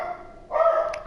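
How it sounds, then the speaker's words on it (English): A dog gives a single close, loud bark that rises sharply after a brief lead-in, with no speech around it. "Sorry, my dog."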